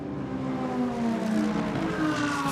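GT race cars roar past at Spa in a continuous loud engine drone, pitch shifting slightly as they sweep by close.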